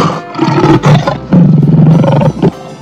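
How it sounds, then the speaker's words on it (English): A lion roars loudly and close in several bursts, deep and growling, with short gaps between them. "Lion."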